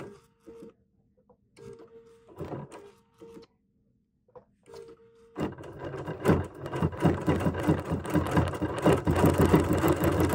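A sewing machine stitches a table runner in short bursts with pauses, then settles into a loud, fast continuous mechanical rattle up close.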